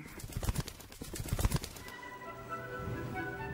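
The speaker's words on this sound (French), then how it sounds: "Juste avant de migrer, les oiseaux se rassemblent par milliers." Thousands of starlings flock together in England before migrating; a flurry of wingbeats and rustling gives way to overlapping chirps and whistles from the massed birds.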